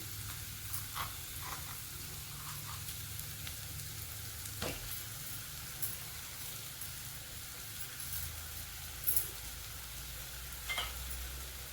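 Gram flour roasts in a pan with crushed garlic and coconut stirred in, a faint, steady sizzle under occasional soft stirring scrapes throughout, with no voices.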